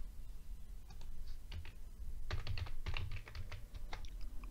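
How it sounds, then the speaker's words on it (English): Computer keyboard typing a command at a Windows command prompt: a quick run of close, crisp key clicks, slightly irregular and busier toward the end, with no talking. "Type the command list"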